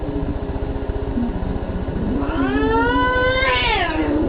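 A cat lets out a long, drawn-out meow that rises and falls, close and loud over a steady low mechanical rumble.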